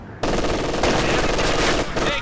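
Sustained machine gun fire in the Company of Heroes 2 World War II strategy game, a dense and loud continuous burst of rapid shots layered with battle noise, running nearly unbroken for about two seconds.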